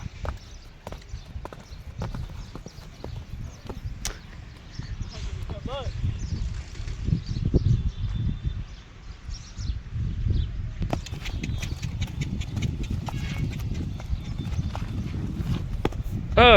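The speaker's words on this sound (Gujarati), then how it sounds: "હા ઘોડો હા" A horse walks along, its hooves clip-clopping in a steady, moderately close rhythm while people talk and call out over the hoofbeats.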